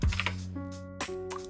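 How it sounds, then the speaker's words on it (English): Loud clicky typing on a mechanical keyboard fitted with blue switches, a short burst of sharp keystrokes close to the microphone with a steady tonal hum underneath. "my keyboard is so loud. I switched to blue switch keys for funsies."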